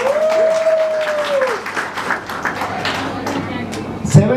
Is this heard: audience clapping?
yes